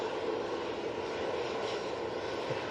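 A departing airliner at Manchester Airport, bound for Naples, roars on its takeoff roll as a steady, broad jet-engine rumble that stays loud and unbroken throughout.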